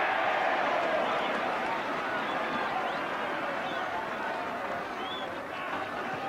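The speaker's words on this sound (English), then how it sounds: "The crowd a little short of ecstatic, I would say." A rugby crowd at a 1983–84 Newbridge RFC v Llanelli RFC match reacts to a Newbridge kick with a steady, broad roar and cheering that slowly fades, with a commentator's voice talking over it.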